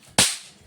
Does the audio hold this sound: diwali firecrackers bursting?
yes